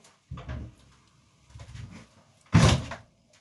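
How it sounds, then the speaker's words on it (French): A door swings shut with a loud thud in a dusty workshop where protective coating is being prepared for kiln shelves, preceded by lighter knocks and shuffling; no talking. "porte s'est refermée. Zut alors!"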